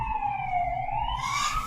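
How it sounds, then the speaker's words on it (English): Emergency vehicle siren on a roadway, a single wailing tone sliding down then back up, faint and in the distance over low road rumble. "You probably can hear that siren in the background as I'm taping this."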